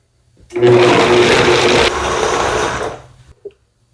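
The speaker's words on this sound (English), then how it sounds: "Pop the lid on and blend it up." A blender whirs loudly for about two and a half seconds, chopping salsa macha with Mexican oregano in oil, its tone dropping midway before it shuts off with a short clunk, close and alone.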